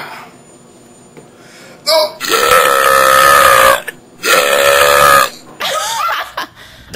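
Three long, loud, guttural burps follow one another closely, each stretched for over a second, with a shorter vocal sound at the end.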